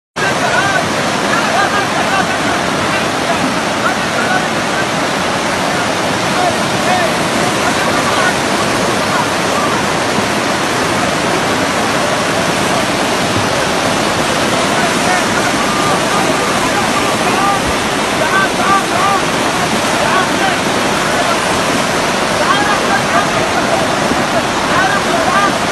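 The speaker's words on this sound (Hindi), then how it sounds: "सऊदी अरब के शहर में तूफानी बारिश की वजह से पानी में कारें डूब रही हैं और कारें बहती हुई नजर आ रही हैं।" Torrential storm rain and floodwater rush through a Saudi Arabian city, sweeping cars away with a loud, unbroken roar of water that lasts throughout.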